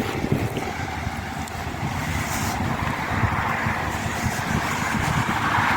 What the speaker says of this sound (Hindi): पूरा बारिश का पानी जो है ना इधर भरा हुआ है